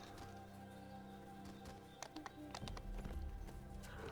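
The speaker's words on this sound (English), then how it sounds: "I do have the super fast horse, so I will run slightly faster than you." Hooves of a fast horse running in the video game Dungeons & Dragons Online, a quiet rhythmic clip-clop beneath a steady layer of game music and ambience, growing slightly busier toward the end.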